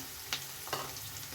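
Green peas drop into a hot frying pan for peas shavige bath, with two short bright bursts of sizzle and stirring over a steady low background, no voices.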